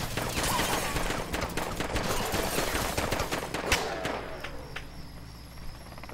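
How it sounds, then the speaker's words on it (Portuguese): Dense gunfire in the military shooter game Arma 3: rapid overlapping automatic bursts and single shots crackle continuously, loud and busy, with a few sharper cracks standing out. "tá atirando em mim"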